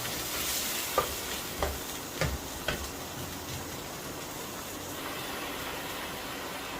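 Sweet and sour chicken cooks in a pan with sweet chilli sauce, a soft sizzle and a few sharp clicks and scrapes of stirring early on, quiet and close with no talking.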